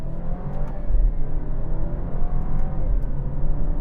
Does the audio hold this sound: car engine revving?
yes